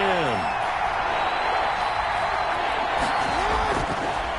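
A stadium crowd cheers in Madden NFL 21 during a Ravens at Steelers game, a steady broad roar running throughout while voices talk over it.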